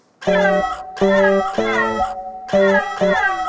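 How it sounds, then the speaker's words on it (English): Repeated meow sounds from a synthesized cat sample with a pitched, synthetic quality layered over a low bass tone from a bass rig, several notes in a rhythmic pattern, loud and close. "Now I can do a sample meow plus a bass meow at the same time"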